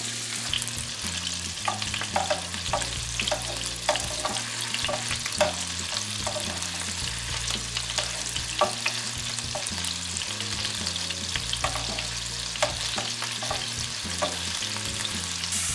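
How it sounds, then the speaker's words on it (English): Lamb meatballs browning in a hot pan, a continuous sizzle and spatter with light clicks of stirring or turning, close and steady throughout, no voices. "we're going to brown these and on both sides slightly"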